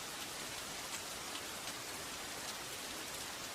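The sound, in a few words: rain falling in Bleach anime episode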